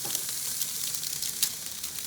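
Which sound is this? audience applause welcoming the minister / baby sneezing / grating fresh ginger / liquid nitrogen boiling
liquid nitrogen boiling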